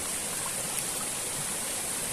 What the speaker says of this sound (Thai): มีน้ำตกมีลาธารแบบเนี้ย